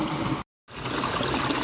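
Water pouring at a waterfall near Madurai, fed from forested hills above, makes a steady loud broadband rush, cut by a brief silent gap before resuming.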